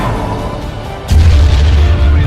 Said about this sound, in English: Then I saw the explosion.